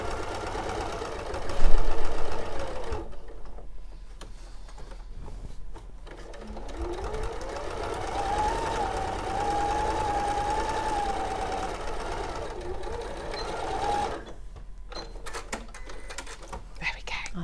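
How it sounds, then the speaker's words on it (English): Sewing machine stitching round a piece of a William Morris green quilt, with a continuous mechanical whir that pauses briefly and starts again while people talk quietly nearby. "As I sew round."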